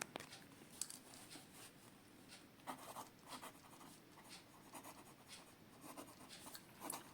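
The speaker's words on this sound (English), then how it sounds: "Now let's do some writing sample." A black Platinum Preppy fountain pen with a medium 0.5 nib writes on paper, giving faint, close scratchy strokes in short irregular bursts with brief pauses between them.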